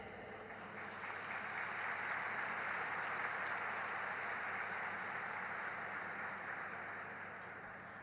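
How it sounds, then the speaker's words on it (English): Audience applauding dignitaries at a Rotary peace awards ceremony, a soft, distant, dense patter of clapping that swells slightly in the middle and fades toward the end. "we have a big round of applause for all the dignitaries present over here"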